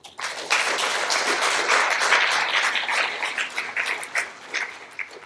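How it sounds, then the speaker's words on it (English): Audience at a literature festival talk applauding volunteers, a loud round of clapping that swells quickly, holds, then thins into scattered individual claps toward the end. "a round of applause for all my volunteers here."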